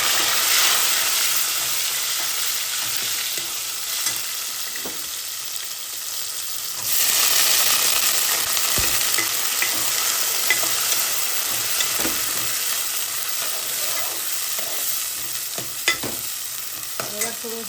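Steady loud sizzling of cluster beans and tomatoes frying in a hot oil tempering, with occasional stirring clinks, continuous throughout and fairly close.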